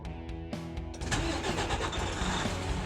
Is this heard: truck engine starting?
yes